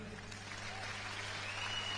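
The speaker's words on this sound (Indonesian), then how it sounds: "Kasih tepuk tangan dulu." Applause from a gathered congregation at a religious talk, a broad steady wash of clapping that fills the space evenly at moderate level with a low constant hum beneath it.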